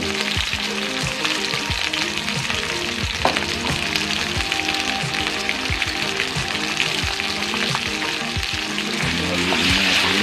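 Chicken legs frying in a pan over low heat for Ilocano tinola, a loud continuous sizzle with scraping and knocking from stirring scattered throughout, no talking.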